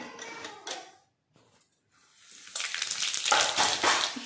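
Cumin seeds are dropped into about two spoons of hot oil for a tadka and crackle loudly, a dense sizzle swelling after a short pause following a few softer kitchen noises.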